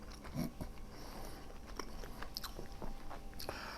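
Close, crunchy bites and moist chewing on tender roasted pork loin coated in garlic, herbs and mustard, a few distinct bite transients followed by softer chewing, with no talk.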